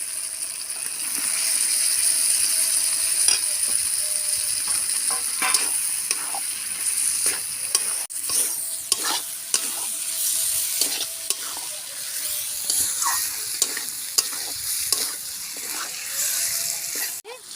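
New potatoes frying in spiced oil, stirred with a spatula that scrapes and clicks against the pan in steady irregular strokes over a continuous sizzle.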